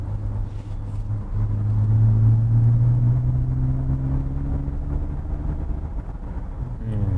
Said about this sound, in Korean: S 엔진은 소리가 되게 바이크 소리가 나는 것 같은데